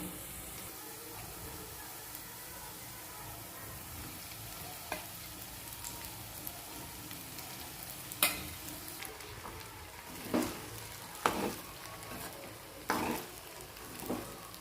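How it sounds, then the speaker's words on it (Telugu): Sabudana khichdi being stirred with a ladle in a hot pan: a steady low sizzle underneath, with scraping clinks of the ladle against the pan that grow more frequent and pronounced in the second half. "ఇలా మంచిగా మిక్స్ చేయాలండి ఇలా అంతా మిక్స్ అయిపోయిందండి చక్కగా"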